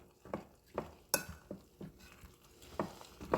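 Breadcrumbs mixed by hand into a meatless casserole mixture in a bowl, soft irregular scraping and squishing strokes up close, fairly quiet, with no talking.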